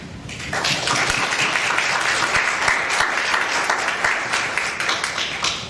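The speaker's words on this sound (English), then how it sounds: "Last round of applause for them." An audience at a workshop applauds steadily, dense clapping from many hands sustained throughout with no break.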